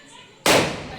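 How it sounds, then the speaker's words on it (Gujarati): A single mirchi teta firecracker bursts during festival season: brief quiet, then one sharp loud bang close by, decaying quickly. "આ લાવે છે મિર્ચી ટેટા, હવે આપણે ફોડીશું"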